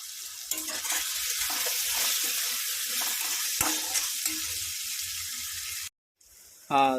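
Fish curry ingredients sizzle and fry steadily in a pan, a close, continuous hiss with occasional stirring scrapes, briefly cutting out near the end.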